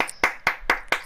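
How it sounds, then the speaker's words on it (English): Five sharp hand claps ring out close and loud in an even, quick rhythm, each one a crisp smack with a short gap before the next. "That's why I was clapping."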